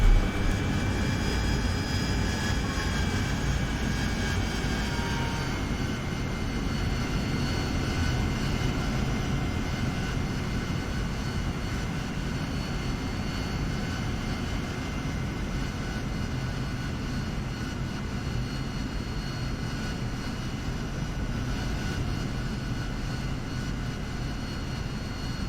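A Harrier jet in DCS gives a loud, continuous engine roar with a whining tonal hum as it slows with flaps and gear down toward a vertical landing pad. The whine shifts slightly early on, then settles into a steady drone.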